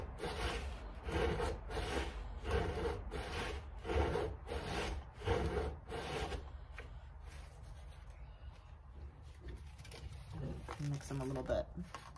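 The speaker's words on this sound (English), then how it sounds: "I've been straightening them out by just kind of rubbing them on the edge of my desk." Crinkled found objects scrape back and forth against a desk edge in a steady series of close, rasping rubs, about a dozen strokes, then some lighter scuffing, with a voice talking underneath.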